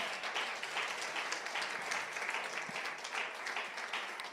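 A church congregation bursts into sustained applause and cheering during a fervent sermon on fasting and prayer, a dense, steady wash of clapping that holds at full level throughout.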